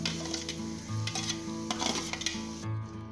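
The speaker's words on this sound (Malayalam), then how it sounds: "അതിലേക്ക് ഗ്രാമ്പൂ, പട്ടയും ഏലക്കയും പെരിഞ്ജീരകവും ചേർത്ത് ഒന്ന് വഴറ്റാം" Cashews, cloves, cinnamon, cardamom, fennel and carrot sizzle in a pan for vegetable fried rice, with a steady frying hiss and repeated clinks and scrapes of a spoon against the pan, close and without speech.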